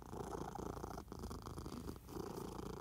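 A cat purrs steadily and closely in a quiet room, a soft continuous rumble broken by two brief pauses for breath.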